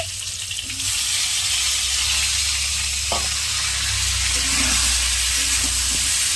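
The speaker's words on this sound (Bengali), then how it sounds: "ফুলকপিগুলো দিয়ে ফ্রাই করলাম। তো এখন এই যে টমেটোগুলো দিয়ে দিব এখানে" Tomatoes go into a pan of potatoes and cauliflower already frying in oil, and a loud, steady sizzle fills the whole clip with a brief clatter partway through.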